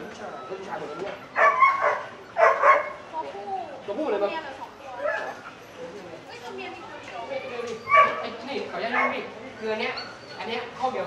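Puppies yipping, barking and whimpering in a pet shop, several short bursts up close, with people chatting around them.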